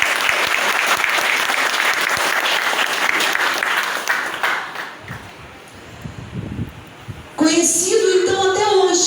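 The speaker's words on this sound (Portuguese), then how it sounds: "Aplauda o Senhor por isso" A church prayer-group audience at a Catholic Charismatic Renewal gathering bursts into loud, dense applause for several seconds. The clapping fades and thins out, then a voice cuts in over the last of it.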